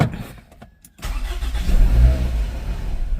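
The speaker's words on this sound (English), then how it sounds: "And the vehicle did crank over, but it did not stop." A 2007 Toyota RAV4 with a stalling, rough-running fault cranks briefly and then catches, its engine rising into a loud, low rumble that holds steady up close, with no talk over it.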